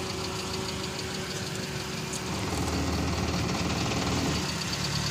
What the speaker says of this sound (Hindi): इंजन को वाइब्रेशन पे पहले लेके आओ क्लच से, फिर थोड़ा गाड़ी बढ़ाना, फिर रोकना